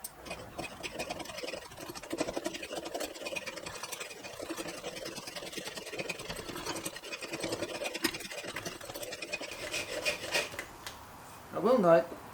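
A Mastermyr-style wooden adze handle being shaved down by hand, with steady scraping and rasping strokes across angled grain running throughout, close and moderately loud, ending in a brief louder burst.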